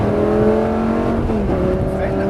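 A Lamborghini accelerates on a racetrack, its engine loud and close in a steady, high droning pitch that dips briefly as if shifting, with a voice speaking faintly underneath.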